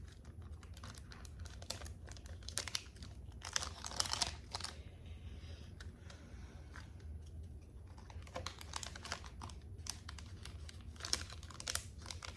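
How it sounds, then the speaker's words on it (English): A pink iridescent foil baggie crinkles in soft bursts of close rustling and crackling, quiet overall, with brief pauses between handling. "I just put them in this pink foil iridescent baggie"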